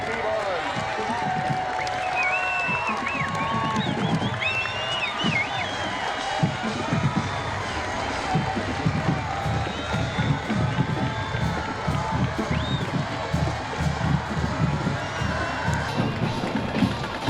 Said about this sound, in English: Get up, get loud, cheer your team on.